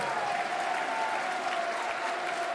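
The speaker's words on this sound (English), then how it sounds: "Good applause for him, as you can hear." A large football stadium crowd at a Millwall v Leicester City match applauds a substituted player, a steady, dense, distant wash of clapping heard throughout with no talk over it.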